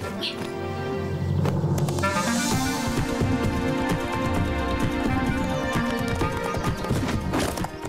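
Cartoon horse hooves clip-clop steadily as the hunter's horse goes by, a rhythmic clatter over a music-like bed, with a brief whinny-like sound near the start.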